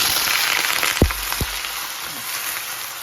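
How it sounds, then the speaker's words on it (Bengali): Chopped onions hit a bit more than half a cup of hot oil for a Bangladeshi mixed-vegetable bhaji, giving a steady loud hiss and crackle throughout with a couple of sharp clicks early on. "আর তেল একটু গরম হয়ে এখন আমি কাটা পেঁয়াজ দিয়ে দিচ্ছি"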